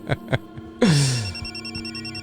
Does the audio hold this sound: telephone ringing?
yes